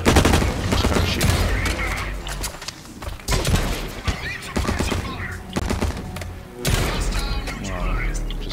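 Rapid gunfire in the first-person shooter Blacklight, heard as dense bursts of automatic shots and repeated volleys that sound loud and close for the whole stretch, with a player talking over part of it.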